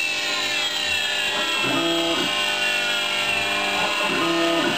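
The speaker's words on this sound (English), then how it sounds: "So here we're drilling the 12 holes." The high-pitched spindle of a CNC3040T machine whines steadily while a drill bit plunges in twice, each cut adding a grinding, rising-and-falling tone.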